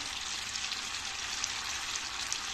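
Chili flakes sizzling in hot butter with salty village tomato paste, a steady bright crackling fry with small pops scattered throughout, close and continuous with no voices.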